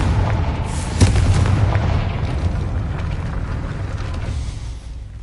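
A Confringo explosion spell from a Harry Potter video game lands as a sharp low boom about a second in, set within a sustained rumbling roar that slowly tapers away.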